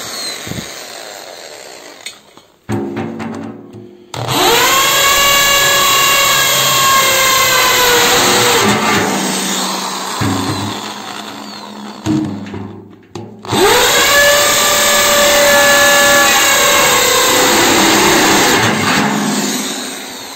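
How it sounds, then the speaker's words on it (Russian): A hammer drill bores a hole in two loud, sustained bursts with a brief pause between, its whine rising and steadying close by, after a few quieter knocks and handling sounds at the start. "Сверлим отверстие."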